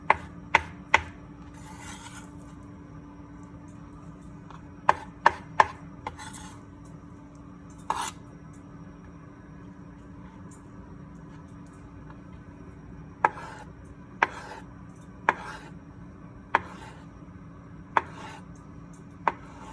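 Sharp knife strokes through shrimp or mango hitting a cutting board, arriving in separated clusters of crisp taps with long pauses, close and fairly quiet over a low steady kitchen hum.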